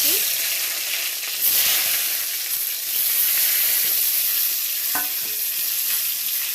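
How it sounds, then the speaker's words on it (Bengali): Eggplant (brinjal) slices frying in oil, a loud, steady hissing sizzle that swells briefly and carries on evenly, with an occasional faint clink and no speech. "বেগুনটা ভেজে নিচ্ছি"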